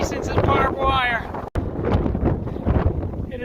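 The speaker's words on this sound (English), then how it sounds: "It is so windy now, it's hard to stand." Strong cold wind gusting into the microphone on a hiking trail near Tehachapi during a windstorm, heavy buffeting rumble almost continuous with a brief cutout, with a voice talking through it.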